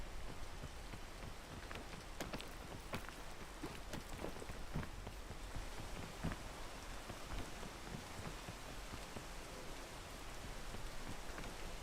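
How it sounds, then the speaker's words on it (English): Steady rain falls throughout a stormy scene in the video game Peak, a dense continuous patter with scattered sharper drop hits and no speech. "The rain fucked me."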